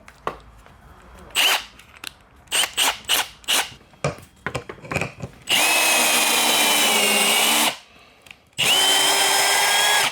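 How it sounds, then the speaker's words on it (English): A power drill runs in two long, loud bursts of steady whirring, preceded by a series of short clicks and brief spins as the chuck slips on a shaft in a clamped workshop setup. "So the drill was just spinning around instead of actually gripping onto the shaft."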